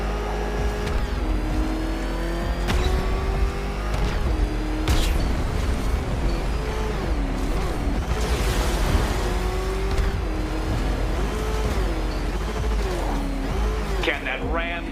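Batman's car in Batman: Arkham Knight roars along with a loud, sustained engine drone whose pitch climbs and dips as it revs, mixed with impact thuds and voices speaking over it.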